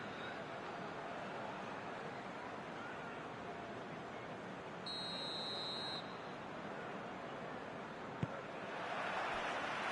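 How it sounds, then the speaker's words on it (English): Referee's whistle in a PES 21 video game football match with Leicester, a single sustained shrill blast of about a second over a steady crowd roar. "There's the whistle, and here we go."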